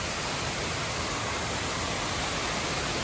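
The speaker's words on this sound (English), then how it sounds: "the largest waterfall in the county" The largest waterfall in Yakima County pours as a loud, unbroken roar of rushing water with no pauses.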